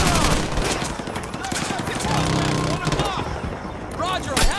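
Dense gunfire and explosions in Modern Warfare 2 Remastered, a loud, continuous battle with overlapping shots through the whole stretch, under radio-style talk from a squad.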